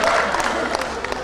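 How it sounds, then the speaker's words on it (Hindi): Audience applause at a live Hindi stage performance, a short dense burst of clapping from a crowd, fairly loud and continuous throughout. "तालियां।"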